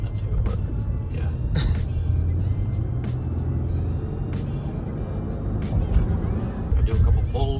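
Engine of a 2023 Toyota Tundra pickup fitted with a JB4 tuner, heard from inside during hard acceleration runs, a steady loud low rumble that swells and surges, with people talking over it.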